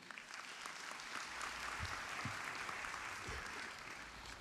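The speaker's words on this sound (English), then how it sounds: "would you please give yourself a round of applause for being here today?" An audience applauding at the World Governments Summit 2025, a broad steady wash of clapping that sounds distant and fairly quiet and holds evenly throughout.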